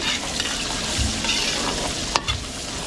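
Garlic and onion sauté in a pan for wedding catering, with a steady close sizzle and a few stirring scrapes, including one sharp clatter near the end.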